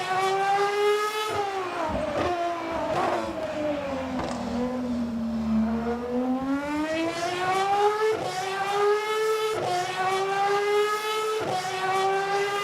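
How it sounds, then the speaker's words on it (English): Race car exhaust in the Le Mans Ultimate racing game drones steadily throughout, its pitch dipping under braking and climbing again as the engine revs up through the gears, with brief sharp breaks at each shift. "Let's just listen to the exhausts here."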